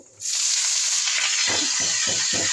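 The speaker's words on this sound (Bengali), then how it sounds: "কালো জিরা, তেজপাতা দিয়ে লাউটা ঢেলে দেবো।" Bottle gourd hits hot oil with black cumin and bay leaf, a loud broadband sizzle bursting in after a brief quiet start, then steady frying with several soft rhythmic stirring scrapes toward the end.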